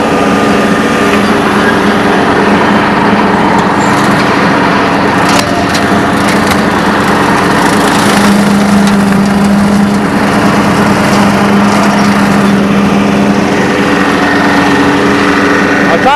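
John Deere 4044M tractor running a bush hog through palmettos, brush and saplings: a loud, continuous engine and mower roar with crackling and snapping from the cut vegetation, and a voice talking now and then underneath.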